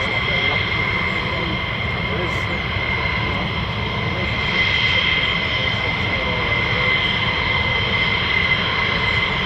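Fighter jet, an F-15 or F-35, departing RAF Lakenheath: a steady, loud jet engine roar that holds through the whole stretch and swells slightly near the end.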